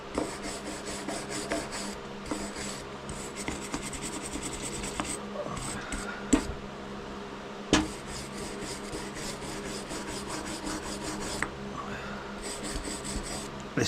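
A soft brush scrubbing muck off a carburetor, with quiet rapid rasping strokes repeated steadily at close range and a few small knocks in between.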